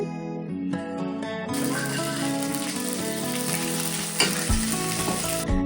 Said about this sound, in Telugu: తాలింపు గింజలు కరివేపాకు అల్లం వెల్లిపాయ పేస్టు పచ్చి వాసన పోయే వరకు ఫ్రై చేసుకోవాలి